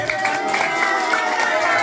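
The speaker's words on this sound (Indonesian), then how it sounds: "Kita kasih tepuk tangan." Supporters at a Golkar party campaign gathering in Mariso, Makassar, clap and cheer to welcome an elected city council member, a brief busy mix of hand claps and voices from a close crowd.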